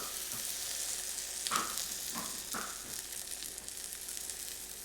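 Keto churro batter sizzles on a hot waffle maker with a steady, fairly quiet frying hiss, broken by a few soft clicks or taps.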